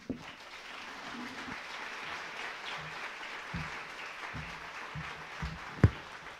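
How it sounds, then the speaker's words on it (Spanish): An audience at a community talk gives a speaker sustained applause, a dense wash of many hands clapping that holds steady throughout, with a few louder claps and thumps near the end. "un aplauso por favor"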